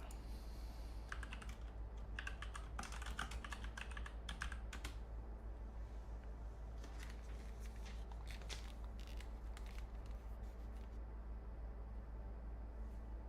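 Quick bursts of clicks from typing on a computer keyboard come in uneven clusters with short pauses, close and fairly quiet against a low steady hum, with no voices.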